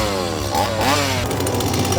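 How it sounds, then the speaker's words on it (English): Chainsaw roaring loud and close in a Halloween Horror Nights haunted zone at Universal, the engine revving up and down continuously amid crowd noise for about two seconds. "Origins of Horror is also where you're gonna find some of this year's chainsaws"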